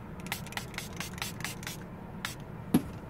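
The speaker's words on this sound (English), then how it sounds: "set my face though with the matte makeup setting spray" A series of quick, soft bursts of Ulta matte makeup setting spray hiss close by in an irregular rhythm over a faint background, ending with a small click.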